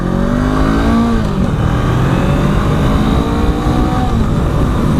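A 2018 Honda CMX 500 Rebel motorcycle engine revs up close, its pitch rising and falling in smooth sweeps as it accelerates.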